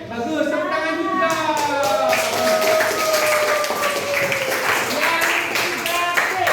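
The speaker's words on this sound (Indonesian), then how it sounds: "Tepuk tangan juga." Students clapping in a classroom during an Islamic religious education lesson, a steady spread of claps running throughout with a voice speaking over them.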